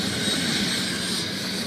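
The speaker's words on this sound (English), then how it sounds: "Medical helicopters flying well into the evening hours, transferring about a dozen survivors to hospitals across southern Utah." Medical helicopters flying into the evening while ferrying survivors of a tour bus rollover near Bryce Canyon in southern Utah, heard as a steady, loud broadband engine and rotor drone that holds constant throughout, with no talk.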